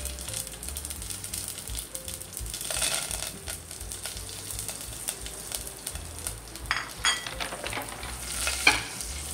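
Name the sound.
tempering sizzling in hot oil: mustard seeds, cumin, garlic, curry leaves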